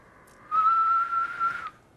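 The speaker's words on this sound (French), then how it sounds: "Siffler, c'est assez facile." A person whistles through the lips, a single steady high tone held for just over a second, with slight wavers, clear and close against a quiet background.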